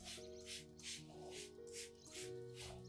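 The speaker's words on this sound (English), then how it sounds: "gently spray a thin mist over the leaf surfaces and around the base of the Zamioculcas plant" A spray bottle misting the leaves of a Zamioculcas plant, a series of soft, regular hissing puffs repeated about every half second over a low background tone.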